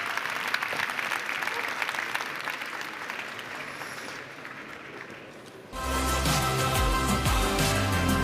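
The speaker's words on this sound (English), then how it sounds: "Let's give a round of applause" Audience applause at a ChangeNOW 2024 media session, a dense steady clapping that swells and grows louder and fuller toward the end, with some crowd noise mixed in.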